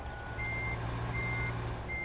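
A Kenworth W900 truck backing up in American Truck Simulator sounds three evenly spaced high reversing beeps over a steady, close diesel engine rumble.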